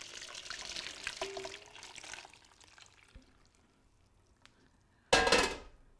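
Hot salted water poured over cucumbers in a bowl, a short, loud splashing gush that comes after a stretch of quieter kitchen clatter and handling noises.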